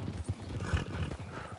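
Horse hooves in Red Dead Redemption 2, a few soft clip-clop beats close by with low thuds, fairly quiet and uneven in rhythm.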